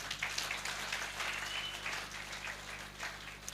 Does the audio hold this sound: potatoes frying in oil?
no